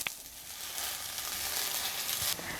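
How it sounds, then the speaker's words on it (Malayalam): Mint leaves sautéing in a pan for a mint chutney, a steady bright sizzle heard close up, with a small stir-like tap at the start and near the end. "പുതിനയില ചേർത്ത് കൊടുത്ത ശേഷം നമ്മളിനി 1 മിനിറ്റ് ഇത് നല്ലതുപോലെ ഒന്ന് വഴറ്റി കൊടുക്കണം"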